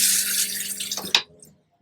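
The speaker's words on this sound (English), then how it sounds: "And then flush again." An RV toilet in a 2017 Thor Motor Coach Chateau flushes with a steady close rush of water, then a short gurgling gulp before it cuts off to silence.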